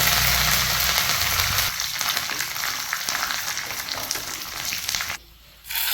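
Mustard seeds, dried red chillies and curry leaves fry in hot oil for a Kannur-style cucumber perakku, a loud, sustained crackling sizzle up close that briefly drops away near the end.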